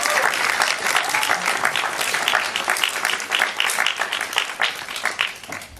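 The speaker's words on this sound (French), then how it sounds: "la réalisatrice du film, Francesca Gregorini, que vous applaudissez fort." An audience at the Champs-Élysées Film Festival in Paris claps for the director and cast: dense, loud applause that runs steadily for almost six seconds, with a few sharper individual claps standing out and no voices over it.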